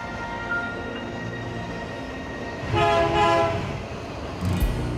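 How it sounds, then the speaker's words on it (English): A Norfolk and Western GP9 diesel locomotive passing with its train, a steady rolling rumble topped by two loud horn blasts, the second shorter, heard from close by. "that was a Norfolk and Western GP9"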